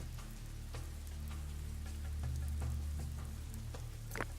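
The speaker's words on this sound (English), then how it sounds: "Even though you can even see the rain hitting the water." Rain falls onto water in the prehistoric survival video game Dawn of Man, giving a steady soft patter with occasional sharper drip ticks over a low ambient hum. No voices are heard.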